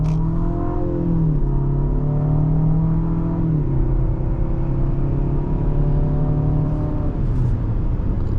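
A 2025 Infiniti QX60 Autograph SUV engine accelerates steadily at about half throttle, its pitch rising through gear shifts, heard from inside the vehicle with a loud continuous rumble.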